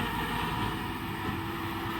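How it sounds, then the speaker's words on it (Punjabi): A maize silage harvester pulled by a 90 HP tractor runs in a field, a steady loud mechanical roar and rumble with constant whirring, unbroken throughout. "ਬਾਕੀ ਦੇਖ ਲਓ ਕਿਵੇਂ ਚੱਲਦੀ ਆ ਮਸ਼ੀਨ"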